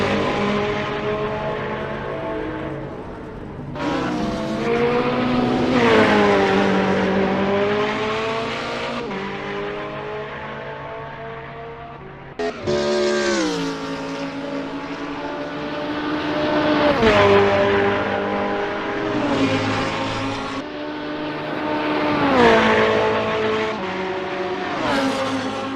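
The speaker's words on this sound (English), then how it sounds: "Tater is 8th driving a Ferrari 488 GT3." A Ferrari 488 GT3 race car engine revving hard and shifting through gears in a GT3 racing game at Bathurst, loud rising and falling tones with repeated upshifts, near and continuous.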